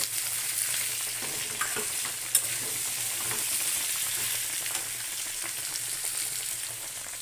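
Curry with cumin powder sizzles steadily in a pan while being fried and stirred, a constant close hiss broken by one brief sharp clink of the spoon.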